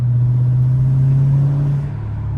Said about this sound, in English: y'all gotta really listen to the downshifts